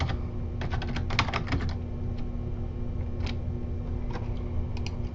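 Keys clatter on a computer keyboard in quick irregular bursts and pauses, close and moderately loud over a steady low hum, with no talking.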